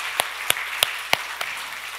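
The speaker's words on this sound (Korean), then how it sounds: "우리 다 같이 박수하겠습니다" A church congregation applauding briefly during a Korean intergenerational worship service, heard as a few sharp, spaced claps standing out over a soft, steady background wash.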